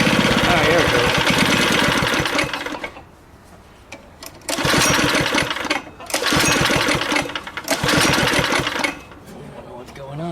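A neighborhood go kart's small engine sputters and tries to run in loud bursts of rapid putter, cutting out to quiet pauses and catching again several times.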